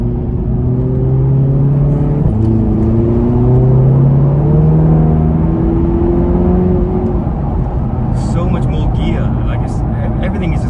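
A remapped Mk3 Audi TT 2.0 TFSI Quattro with a stage 1 tune revving hard, its engine tone climbing in pitch with turbo whine, while someone talks over it.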